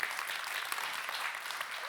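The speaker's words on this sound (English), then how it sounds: "Big round of applause for Cornelia again." Steady applause from a symposium audience fills the brief moment, a dense, even patter of many hands clapping, heard from a moderate distance with no voices over it.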